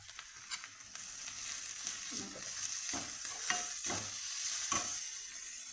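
Onions tossed into hot oil with curry leaves sizzle in a pan while being stirred, a quiet steady frying hiss broken by several sharper scraping strokes, close up with no talking.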